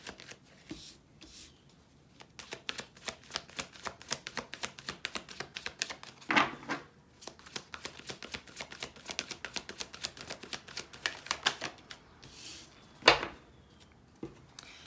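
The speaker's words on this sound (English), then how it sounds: "I wasn't even done shuffling." Tarot cards being shuffled close up, a quiet, fast run of crisp riffling flicks and taps that pauses briefly twice, with no voice over it.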